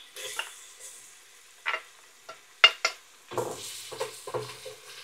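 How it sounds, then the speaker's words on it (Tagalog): Onion and garlic sauté in hot olive oil for a Filipino chicken lugaw, soft sizzling with a few sharp spoon-against-pan scrapes and stirring clatters, close and fairly quiet. "May olive oil na mainit. Gigisa natin muna ang sibuyas."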